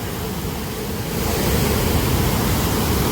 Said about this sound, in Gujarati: ગિરનાર બાજુ એક આવ્યો છે વોટરફોલ